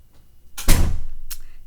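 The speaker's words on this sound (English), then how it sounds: "Close the door." A door closing with a single solid thunk, followed moments later by a lighter knock, fairly close in a quiet room.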